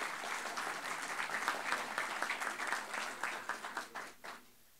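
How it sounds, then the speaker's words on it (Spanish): An audience at a constitutional anniversary panel gives a speaker a round of applause, a dense patter of clapping that holds steady, then thins and fades out near the end, heard from a distance at low level. "Otro aplauso para don Sergio Germán."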